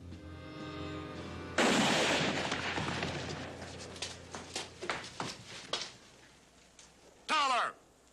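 Gunfire in a Bonanza Western episode: a loud blast followed by a scattered run of sharp shots and a final close burst, with voices in the mix.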